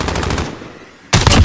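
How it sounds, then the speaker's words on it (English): Enemy sentry gun in a video game firing loud rapid bursts, a sustained rattle that breaks off briefly and then resumes at full force. "Enemy sentry gun active."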